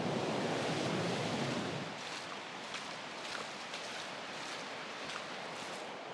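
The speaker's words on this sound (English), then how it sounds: "It was very noisy at that weir with all that water." Heavy rushing water pouring over a weir on a Dartmoor river in the Teign Valley, a loud broadband roar for the first two seconds that then drops to a steadier, softer wash of flowing water.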